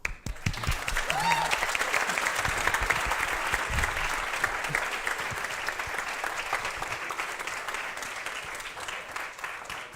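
Audience applause at a live debate in Lisbon, a steady dense wash of clapping that swells early and holds loudly for about ten seconds before easing slightly, with a few voices briefly audible near the start.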